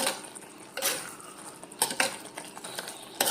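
Raw mango curry with jaggery and sugar being stirred in a pot, giving a few scattered clinks and scrapes of a utensil against the vessel, close and fairly quiet, with no talking.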